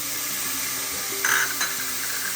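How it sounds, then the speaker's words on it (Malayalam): Cauliflower tipped into a hot pan for a Kerala-style pulao sizzles quietly while a spoon stirs and scrapes, with a brief louder clatter midway, all soft and close. "ഇതിലേക്ക് എടുത്തു വെച്ച കോളിഫ്ലവർ ചേർത്ത് കൊടുക്കാം."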